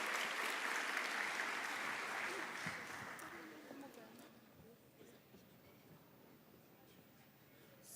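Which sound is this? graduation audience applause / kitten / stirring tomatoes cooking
graduation audience applause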